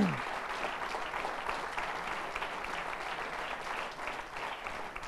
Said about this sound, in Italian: con un applauso al pubblico che sostiene sostengono i candidati